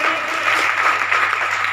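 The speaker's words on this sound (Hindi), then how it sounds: "सभी तालियों से स्वागत करें।" An audience at a foundation-day ceremony in Jaipur claps in welcome, a steady moderate patter of many hands sustained through the short stretch with a low hum underneath.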